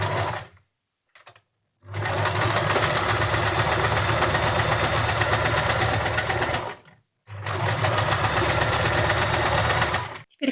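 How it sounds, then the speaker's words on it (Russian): A sewing machine stitches a seam about half a centimetre in from the edge of a baby blanket envelope, running in two long, steady whirring bursts separated by short silent pauses. "Теперь прострачиваем на швейной машинке где-то на расстоянии"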